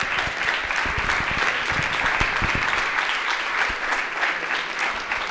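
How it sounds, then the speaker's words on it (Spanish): A live audience at the theatre show "Tolerancia Sala Cero" applauds the performers with steady, dense clapping that holds a fairly even level for several seconds. "Un fuerte aplauso, por favor, para Fabián,"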